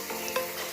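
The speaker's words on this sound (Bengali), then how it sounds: "এখন আলু ভাজছি" Potatoes fry and get stirred in a clay kadai over a wood fire: a brief, soft crackle of sizzling with a scrape of stirring, close up.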